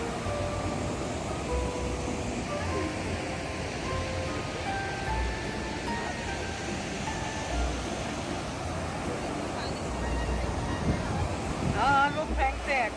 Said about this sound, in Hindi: वो गिरते हुए पानी की आवाज़ कानों को बहुत ही सुकून देती है